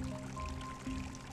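Running water trickles and flows in the horror video game Precipice, a faint, continuous liquid stream with a few soft tonal hums underneath.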